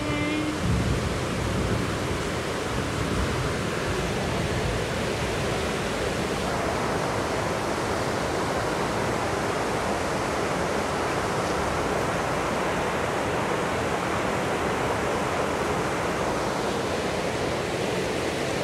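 Heavy rain pouring down as a dense, steady roar of broadband hiss, loud and unbroken from start to finish with no distinct drops or voices standing out.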